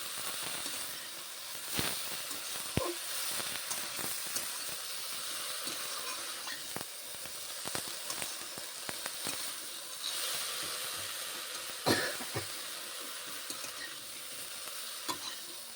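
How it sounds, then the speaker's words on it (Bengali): Fish fries in hot oil tempered with nigella seeds and no other spices, a steady close sizzle broken by repeated scrapes and knocks of stirring. "এই মাছে কোনো মশলা হয় না শুধু কালো জিরে ফোড়ন দিয়ে ভাজা হয়"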